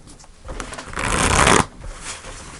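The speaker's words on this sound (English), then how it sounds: "Let's pull another card for the Six of Cups for Scorpio" Tarot cards being shuffled, a soft riffle that builds to a loud, dense rush for about a second and then cuts off, close and heard alone.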